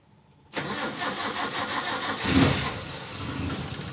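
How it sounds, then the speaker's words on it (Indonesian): A Suzuki Carry Futura van engine, which starts hard when hot, cranks and catches at about half a second, settles into a steady idle, then gets a brief rev with a swell of throttle before dropping back to a running idle. "Coba di starter lagi dulu, terus digas coba bagaimana."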